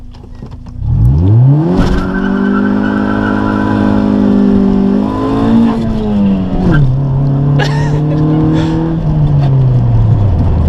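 An EK Civic launching at full throttle, its engine revving hard and climbing steadily in pitch at close range, easing briefly, then pulling again in a loud, sustained drone.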